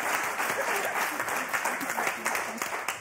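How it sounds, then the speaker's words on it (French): Studio audience applause on a French television game show, steady dense clapping throughout with a voice speaking over it. "On va vous applaudir très fort"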